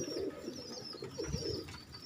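Several kinds of pigeons coo softly in repeated low, throaty phrases close by, over a faint steady background with no talk.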